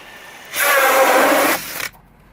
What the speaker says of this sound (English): And little doorknob hole driller.